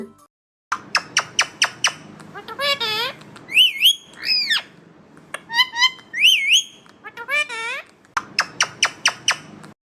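A parakeet squawks and whistles in bright, sweeping calls, set between bursts of rapid clicking sounds.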